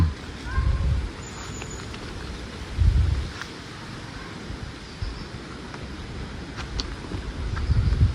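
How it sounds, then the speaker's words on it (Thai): Wind rising ahead of rain outdoors, heard as a steady broadband rush with low gusty buffeting surges against the microphone, swelling around the start, middle and end; no speech. "ลมเนี่ยก็ได้พัดขึ้นมา เรื่อยๆนะครับทุกคน"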